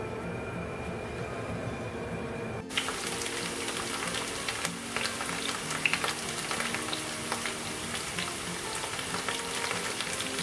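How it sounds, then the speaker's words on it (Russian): Potatoes poured into heated oil and frying, a steady dense sizzle that jumps louder after a couple of seconds when they hit the oil, continuing evenly with small crackles and no talk. "прогреваем масло и засыпаем в него картошку"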